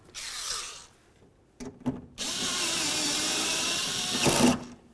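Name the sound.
power tool tightening window channel bolt in car door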